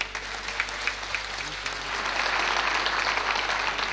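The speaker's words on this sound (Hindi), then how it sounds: "कुछ तालियां बची है?" Dense applause from a theatre audience at a tribute concert, a steady wash of many hands clapping that swells louder and fuller through the second half, with no voices over it.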